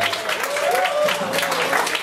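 Audience clapping in a Toronto jazz club, a room full of hands applauding steadily at moderate distance, with a voice speaking over the clapping.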